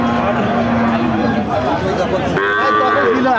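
Cattle, including bull calves, at the busy Baro Bazar livestock market in Kaliganj, Jhenaidah, with a calf or cow lowing amid crowd chatter and hubbub, voices talking close by.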